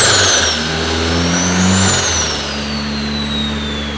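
Car engine on a dyno, chasing a 440 target with injectors nearly maxed, revs hard and loud in a sustained pull, the pitch climbing and holding steadily with no talking over it.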